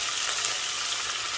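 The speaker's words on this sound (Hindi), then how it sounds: "मसाले भी फ्राई हो गए हैं, प्याज भी ब्राउन हो गया।" Dense, steady sizzling of onion and spices frying in a pan for masoor dal, close and continuous with a hissy crackle.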